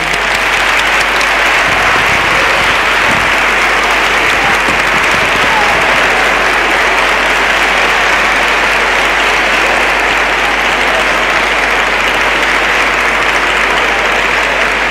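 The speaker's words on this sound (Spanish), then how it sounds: "Así que os pediría un aplauso para Dulce." Sustained, loud applause from a large audience honouring Dr. Dulce Campos Blanco, a departing teacher of an intensive MIR exam-preparation course in Asturias, a dense steady clapping wash lasting the whole stretch.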